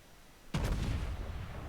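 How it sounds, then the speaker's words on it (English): Warship main guns fire in World of Warships, a single sharp booming salvo that cracks out of near silence and rolls on into a sustained low rumble. "fire some preliminary rounds downrange to make sure I've got the lead right"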